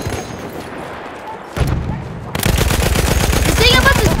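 Rapid gunfire from a slow-firing gun in Battlefield 1, starting as scattered shots and then becoming a loud, dense burst of repeated blasts over game background noise, with voice chat mixed in.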